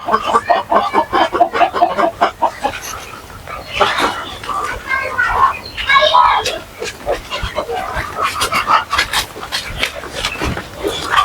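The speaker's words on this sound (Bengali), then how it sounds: "এগুলো হচ্ছে আমার মিশরি ফাউমি" Egyptian Fayoumi chickens on a farm cluck and call in rapid, repeated bursts, close and loud, with a voice talking over them at times.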